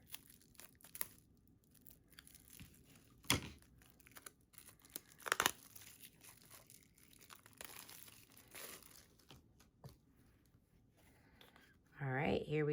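Packaging of illustrated cards being opened, with soft crinkling and tearing of wrapper plastic and paper in short bursts, fairly quiet and close, ending in a louder rustle.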